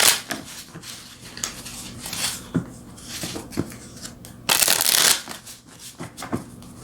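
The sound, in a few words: shuffling tarot cards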